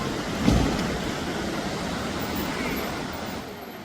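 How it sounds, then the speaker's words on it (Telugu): Water rushes forcefully at the Srisailam dam, a dense, roaring wash that stays loud and steady throughout with no voices. "వాటర్ మాత్రం ఫుల్ ఫోర్స్ వస్తున్నాయి."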